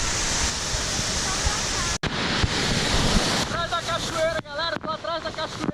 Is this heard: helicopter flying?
no